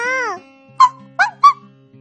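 A dog gives a brief high, wavering whimper, followed by three short yips in quick succession, close and clear against a quiet background.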